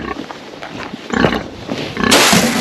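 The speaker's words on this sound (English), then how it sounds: "Our pigs actually eat quite a bit of hay" Pigs on a farm squeal and grunt loudly and close up while being fed hay along with grain, their noisy bursts building toward the end.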